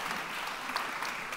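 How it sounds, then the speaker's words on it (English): Applause fills the room for a panel at a food security and supply chain event: a dense, steady wash of clapping from the audience, with no break or voice rising over it. "Bigger round of applause, everyone."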